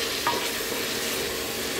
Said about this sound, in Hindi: अब इसमें टमाटर ऐड कर लें, फिर इसको अच्छी तरह भून लें